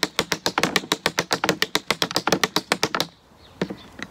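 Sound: tap dance shoes tapping a sixteenth note triplet rhythm

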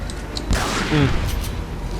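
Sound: explosion and gunfire in video game Resident Evil 4

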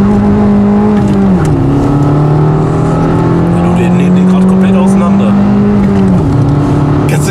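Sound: Fiat Panda 100HP engine accelerating hard

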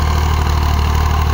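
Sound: tractor engine idling

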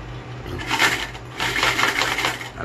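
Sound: coins dropping from a piggy bank

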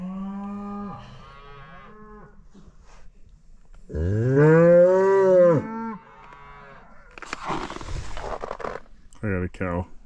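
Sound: cattle mooing

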